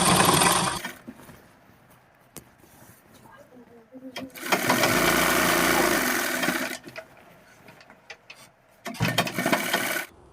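Sewing machine stitching a seam on gents' underwear, short bursts of fast mechanical whirring and needle chatter separated by pauses, with a person talking in between.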